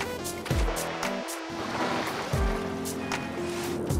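Ocean waves wash and surge in a video game, a continuous watery rush with recurring low swells, heard alone at moderate level.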